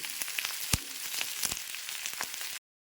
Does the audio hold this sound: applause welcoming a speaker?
no